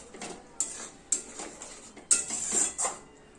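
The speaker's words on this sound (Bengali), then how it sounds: "জিরে বাটা দিয়ে এটাকে নাড়াচাড়া করে দেবো" A utensil scrapes and knocks against a pan as curry with cumin paste and mustard oil is stirred, five or six distinct clinks and scrapes spaced unevenly, close and fairly loud, without speech.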